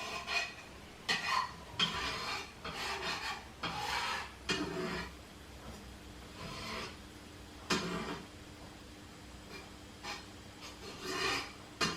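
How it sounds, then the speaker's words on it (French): A spatula spreads melted butter around a pan while crêpes are being made, giving soft intermittent scraping and rubbing strokes at close range, with quiet gaps between passes. "J'étale le beurre avec une spatule."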